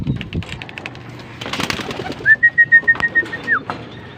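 A racing pigeon coos in its loft just after arriving home from a training flight, a short run of soft, pulsing coos at close range, with a faint whistling tone and rustling in the background.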